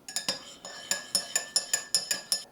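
Metal spoon clinking against the inside of a cup while stirring tea, about ten sharp rhythmic taps in quick succession, close and clear with no talking.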